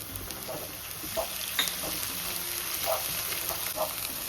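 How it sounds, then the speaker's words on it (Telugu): Green chillies and ginger-garlic paste fry in a pan for a cucumber mutton curry, making a continuous hiss broken by light, spaced clinks and scrapes of stirring. No one speaks. "ఆనియన్స్ ఇలా వేగాక పచ్చిమిర్చి అల్లం వెల్లుల్లి పేస్ట్ వేసి వేపాలి"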